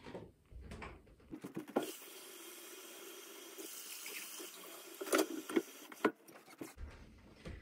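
Water runs steadily from a kitchen tap for cooking grits, a soft, even hissing flow with a few clunks and knocks from handling nearby and no talking.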